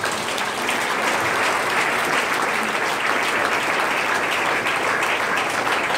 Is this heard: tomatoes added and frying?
no